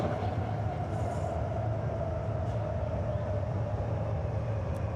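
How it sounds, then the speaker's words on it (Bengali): A Guangzhou metro train pulls into a station platform, its steady low rumble and hum filling the space continuously and fairly loud, with faint station ambience over it and no clear speech. "এই যে মেট্রো চলে এসেছে"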